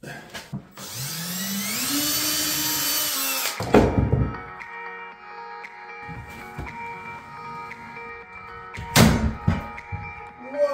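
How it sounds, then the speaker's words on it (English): A power drill whines and spins up during a home bathroom renovation, running steadily for a few seconds as screws are backed out, followed by sharp thunks and clatter, with faint talk nearby. "I'm gonna unscrew these first."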